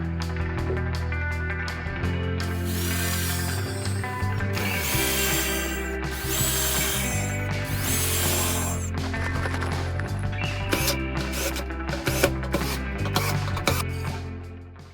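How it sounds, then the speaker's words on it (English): A power drill pre-drills screw holes in wooden picket slats for the bottom of a harvest crate, with repeated whirring bursts and knocks of handling wood between them, close and loud. "pre-drill the holes, and use the 1 1/4 inch screws to fasten it down"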